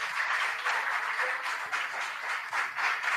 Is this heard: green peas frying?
no